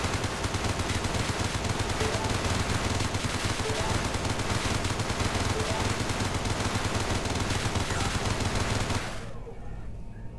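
Rapid, continuous spaceship weapon fire in the space game Everspace, a dense rattling barrage sustained for about nine seconds while shooting an object to extract fuel, then cutting off abruptly to quieter engine hum.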